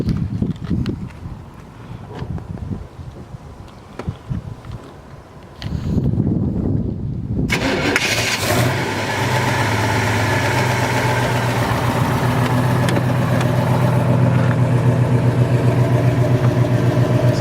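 A 1936 Ford 5 Window Coupe cranks and catches, then settles into a loud, steady, rumbling idle with an even low pulse, heard close after a few seconds of quieter handling sounds.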